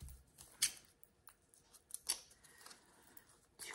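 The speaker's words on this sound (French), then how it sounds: "Je vais essayer de découper ça, mais avec un grand ciseau" Large scissors cut paper in several crisp, irregular snips close to the microphone, separated by quiet pauses.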